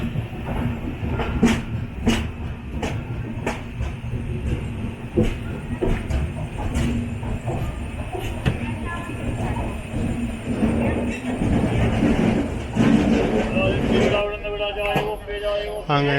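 Express train 12686, Mangalore to Chennai Central, pulls into Shoranur station, heard from on board as a steady rumble with rhythmic wheel clatter over rail joints and rising squeal toward the end.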